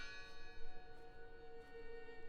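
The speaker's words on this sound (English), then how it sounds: "The bell's still ringing." A church bell rings in the video game Draugen, a faint, sustained metallic tone with rich overtones and a few soft repeated strikes, heard alone and quietly.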